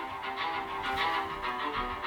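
Music plays through a Nokia 5.4 phone's small speaker, bright and fairly loud but thin, with a steady rhythmic pulse and no talking.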